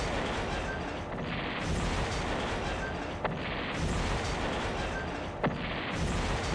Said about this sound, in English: somewhere over here there's troops that need to die. Bombs away!